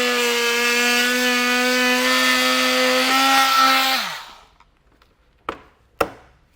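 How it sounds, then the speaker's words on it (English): Oscillating multi-tool buzzing steadily through thin plastic trim on a vehicle during a base plate install, a close, loud, even whine that winds down after about four seconds, followed by a couple of sharp clicks. "I'm just going to use a multi-tool to get it cut out."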